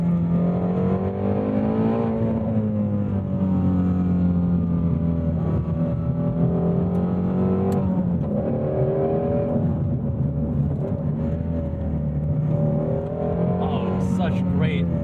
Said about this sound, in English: The sound of the engine on those blips, it's just such money